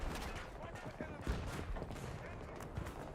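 SMG gunfire in the video game Stranded: a dense, continuous rattle of rapid shots with sharper bursts, heard fairly quietly in a busy game mix.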